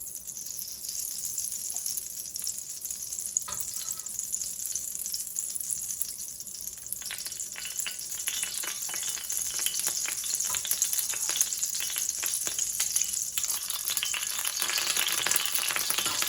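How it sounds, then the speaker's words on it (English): Reused squid-frying oil crackles and sizzles steadily in a hot pan, a bright continuous hiss with scattered pops that grows slightly louder toward the end, no voices. "To this I'm going to add some of the oil that we previously used to fry the squid."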